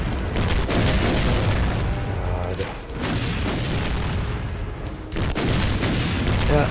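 Missiles explode in a video game, one after another in a rapid barrage. The blasts are loud and booming and run through the whole stretch, with a short lull near the middle.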